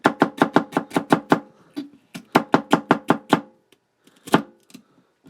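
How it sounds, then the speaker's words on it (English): Celery stalks chopped two at a time with a Schrade SCHF42D knife on a kitchen board: two quick bursts of about seven to eight sharp, evenly spaced chops each, close and crisp, followed by a few scattered cuts. "I'm going to do the chop, chop, chop"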